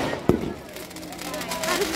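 One sharp firecracker pop cracks out near the start of a Dussehra Ravan Dahan celebration in Kotkhai, followed by fainter crackling and a murmur of background voices.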